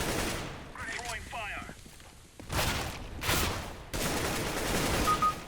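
Gunfire from the video game CS:GO in several loud, sharp bursts. Rapid shots crack repeatedly in the second half, and a voice talks briefly before them.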